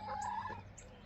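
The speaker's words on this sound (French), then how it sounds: "elles ont peur de rien, ces poules" Hens cluck in a short, quiet burst close by, a couple of quick squawky calls with no talking over them.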